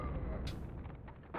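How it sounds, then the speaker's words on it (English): Two wooden barrels blow up in the Darkstone video game, heard as a dull booming rumble with a sharp crack partway through and another burst at the end. "Ah, both barrels exploded."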